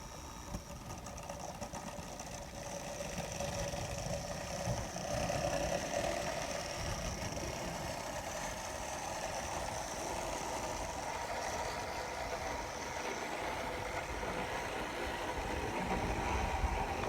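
An N scale Bachmann 4-4-0 model locomotive pulls freight cars around the track with a steady, fairly loud electric whirring hum that runs unbroken and rises slightly toward the end, with no voices.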